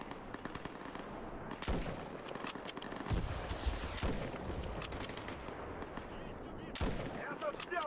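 Video game gunfire rattles in bursts of rapid shots, with sharp individual cracks and sustained automatic fire, moderately loud and dense, with faint voices underneath.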